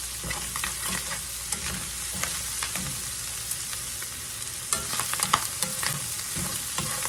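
Cowboy pasta ingredients fry in a pan with a steady sizzle, while a utensil stirs and scrapes through them in irregular clicks and bursts.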